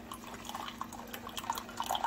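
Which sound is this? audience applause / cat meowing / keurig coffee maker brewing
keurig coffee maker brewing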